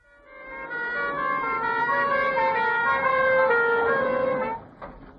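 A loud wailing police car siren rises and falls steadily for several seconds, then cuts off abruptly near the end.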